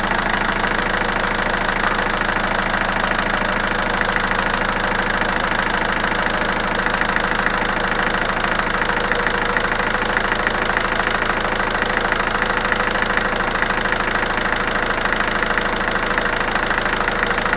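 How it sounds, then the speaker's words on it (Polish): A diesel car engine, running after an injector-cleaning flush, idles nearby, a constant low rumble with a faint rhythmic knock that never changes. "I auto pracuje już na środku"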